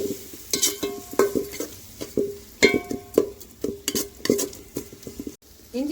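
Ginger garlic paste and onions sautéing in a pan for mutton biryani, a spatula scraping and clanking against the metal in a steady stirring rhythm over a soft sizzle, close and distinct.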